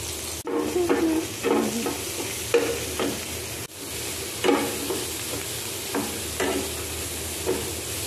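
A homemade pork burger patty frying in a pan for dinner, a constant close sizzle broken by rhythmic scraping and clinking strokes of a spatula against the pan about once a second, with no talking.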